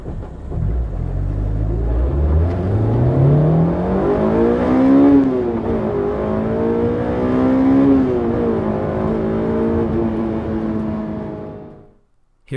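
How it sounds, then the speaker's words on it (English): A Honda S2000 AP2 with a clutch delay valve pulls away in gear. The engine sounds loud and close, rising in pitch as it accelerates, with a small dip and stutter at clutch engagement, then a second climb before it cuts off abruptly. "Here is a video of the clutch delay valve in action."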